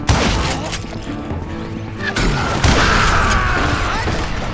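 Gunfire rattles through a Wild West shootout in the Call of Juarez Gunslinger video game: loud bursts of shots and heavy booms, a sharp crash midway, and dense ricocheting fire layered over game sound effects.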